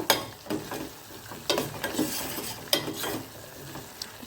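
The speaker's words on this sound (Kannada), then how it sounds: "ಒಂದರಿಂದ ಎರಡು ಸೆಕೆಂಡ್ವರೆಗೆ ಹೀಗೆ ಫ್ರೈ ಮಾಡಿದರೆ ಸಾಕು" Rasam powder fries briefly in a pan, with a soft sizzle under repeated close scrapes and clinks from a spoon stirring at an uneven rhythm.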